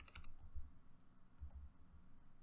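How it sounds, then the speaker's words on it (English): Fast typing on a computer keyboard, light clicking keystrokes in quick bursts with short pauses, faint and close in a quiet room. "And I'm maybe typing"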